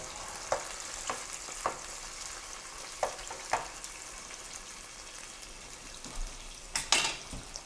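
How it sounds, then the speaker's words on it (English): Peppers sizzle softly in a frying pan while a utensil scrapes and taps in occasional strokes, with a brief louder clatter near the end. "We're not going to let the peppers cook too long"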